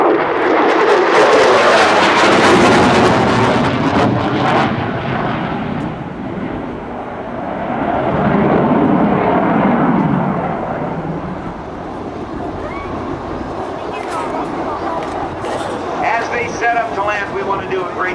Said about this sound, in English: Here's the Rhino carrier break.